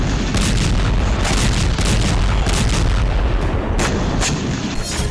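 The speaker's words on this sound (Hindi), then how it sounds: "रात के वक्त रूस ने यहां ताबड़तोड़ मिसाइलें दागी।" Russian missile strikes hitting residential areas of Sumy at night, a dense run of heavy booms and blasts that sound like artillery, loud and continuous, with no voices.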